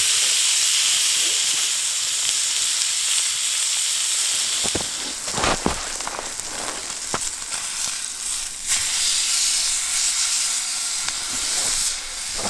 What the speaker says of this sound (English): I've set aside the zucchini and reheated the pan so I can sear my steak.